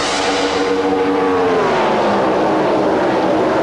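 Jimmie Johnson's No. 48 stock car accelerating off turn 2 at the 2003 Winston, a Winston Cup event. A loud, close engine roar rises in pitch and then sweeps past, steady and alone.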